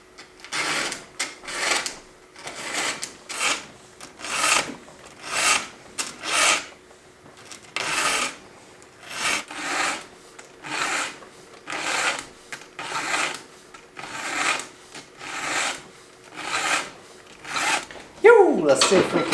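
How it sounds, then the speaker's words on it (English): A chainsaw chain being sharpened with a hand file, about twenty evenly spaced rasping strokes, close and crisp, with a brief voice at the very end. "I really do love hand filing a saw"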